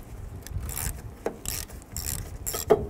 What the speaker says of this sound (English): Loosen this nut up.